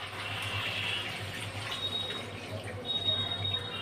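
Heated water poured into a chicken and green jackfruit curry in a pot, a steady close splashing gush lasting a few seconds, with no talk over it.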